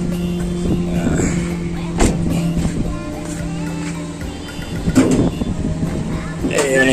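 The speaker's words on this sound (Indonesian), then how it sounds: "Tuh di sana tuh situ tuh mesinnya halus, padahal ini kilometernya udah 300-an." A car engine idles smoothly under the hood of a used car with over 300 km on it, a steady low hum with a few knocks and handling noises on top.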